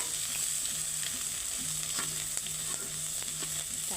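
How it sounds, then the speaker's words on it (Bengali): Sliced tomato fries with egg in a pan, a constant, fairly quiet crackling sizzle that runs evenly from start to finish, with no talking. "একটা টমাটো দেওয়ার পরে আমি এই ডিমটার সাথে ভেজে নিচ্ছি"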